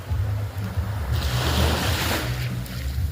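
Sea waves roll onto a beach resort shore in Bagac, Bataan, a steady close wash of surf with low rumbling and wind buffeting the microphone, swelling midway through.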